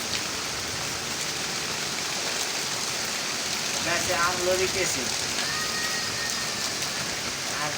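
Heavy rain pours steadily and loudly on surfaces, a dense continuous wash with a few brief faint voices in the background.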